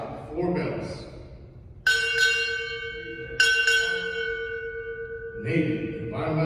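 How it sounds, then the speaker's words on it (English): A ship's bell struck at a US Navy chief's retirement ceremony, two or more clear ringing strikes with long sustained tones, loud and near, with brief speech before and after. "Bell ring, strike 4 bells."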